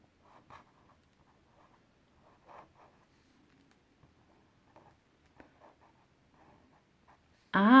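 Pen on paper in a quiet room, soft intermittent scratching strokes across several seconds, ending in a loud sudden noise.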